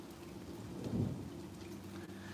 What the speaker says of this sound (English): I'm also listening to the storm